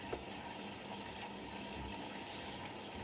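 Steady rushing water as a Bosch Serie 4 washing machine fills for the rinse cycle, a muffled, even fill sound with no voices.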